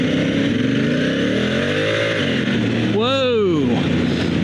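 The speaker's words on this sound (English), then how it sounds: "this tire just spun back there" A dual sport motorcycle revs hard as its rear Pirelli Scorpion Rally tire spins, the loud engine note surging, dipping, then climbing sharply under steady wind roar.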